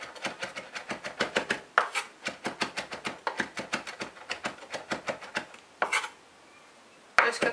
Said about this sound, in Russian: Вот так я режу зелень.